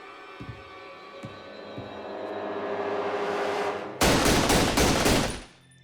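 Gunfire in a crime reenactment, a few faint isolated shots over a rising hum, then a loud rapid burst of several shots before it cuts to near silence.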